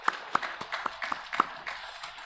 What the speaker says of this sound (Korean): 찬양을 받으신 하나님께 영광의 박수를 올려드리겠습니다.